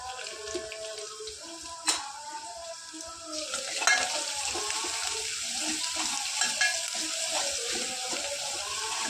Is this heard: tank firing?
no